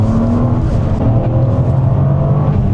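A Toyota GR Corolla engine rumbles steadily with a low, throaty drone, its pitch holding and swelling slightly, close and loud throughout.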